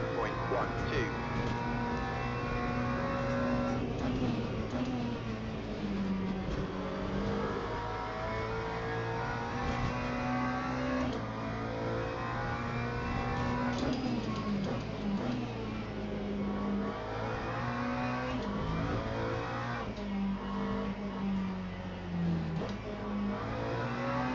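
Race car engines in the Le Mans Ultimate sim racing game rise and fall continuously through gear changes and revving, loud and steady throughout, with someone talking over them at times.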